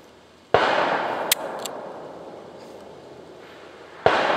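Sharp, loud gunshots from a Walther P22 pistol crack out at a range, separated by pauses of a few seconds, each followed by a brief ringing decay, with a fainter metallic clink between them and no talking.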